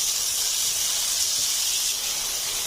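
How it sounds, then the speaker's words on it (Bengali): Eggplant and potato pieces, pre-coated with salt and turmeric, fry in oil left from frying fish, giving a steady, loud, close sizzling hiss without pause. "বেগুন এবং আলুগুলো ভেজে নিচ্ছি।"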